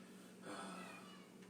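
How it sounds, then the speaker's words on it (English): A cat meows from behind a couch, a single muffled, faint cry that rises briefly and fades. "You can hear it now. Going to have to save the cat."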